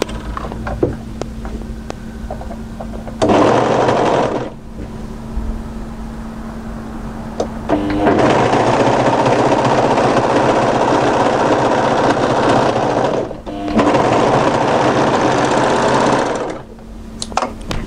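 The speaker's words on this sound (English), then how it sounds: "you need to overlock to here and then run your overlocking off" Overlocker sewing machine stitching the edges of sweater fabric, running loudly and close in three sustained bursts separated by quieter pauses.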